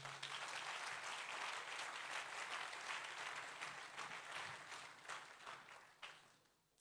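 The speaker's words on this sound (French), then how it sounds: "Acclame le Seigneur Jésus" Congregation clapping during a French-language church service, sustained dense applause close and loud for several seconds before fading out at the end.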